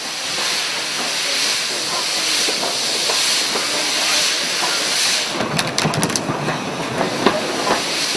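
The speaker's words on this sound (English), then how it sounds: "the crew take the loco back to the exchange sidings" A Hunslet industrial steam locomotive on a Welsh colliery line heads back to the exchange sidings, with a loud steady hiss of steam, later joined by quick clanking and rattling close by.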